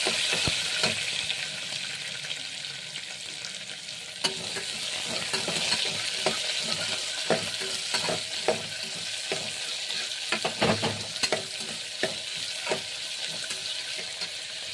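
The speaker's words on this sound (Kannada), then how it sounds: "ನೋಡಿ ಸ್ನೇಹಿತರೆ, ಎಷ್ಟು ಈರುಳ್ಳಿ ಫ್ರೈ ಆದರೆ ಸಾಕು" Onions fry and sizzle in a pan with curry leaves and chopped green chilies while being cooking for upit, with a spoon stirring and scraping in irregular bursts over a steady hiss, and water from a tap running faintly at times.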